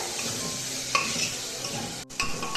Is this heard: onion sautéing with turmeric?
yes